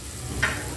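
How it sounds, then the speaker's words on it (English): Garlic and a Royco stock cube stir and sizzle in two tablespoons of hot oil in a pan, a soft, close frying crackle with a brief brighter scrape partway through. "I have 2 tablespoons of oil there, as well as the crushed garlic, and then I'm now adding the Royco cube"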